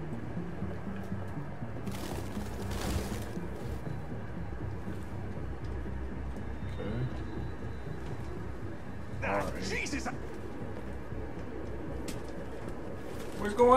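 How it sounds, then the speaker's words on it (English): Pigeons coo and flutter in Detroit: Become Human, a steady soft cooing bed running the whole time beneath a busy background murmur, with brief bursts of brighter wing flaps near the start and middle. "It's like everywhere you go, it's a bird flying from that area."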